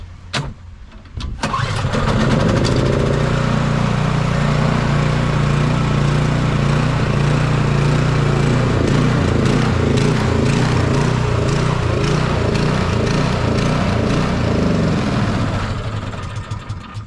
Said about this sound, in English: turn the key, prime the bulb, and then give it a couple of pulls.